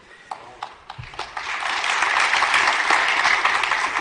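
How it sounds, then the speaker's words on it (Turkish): Audience applause at a press event introducing the first Turkish Formula 2 driver, starting with a few scattered claps and swelling into steady, dense clapping from a crowd. "Alkışları başlangıçtan itibaren duyduk"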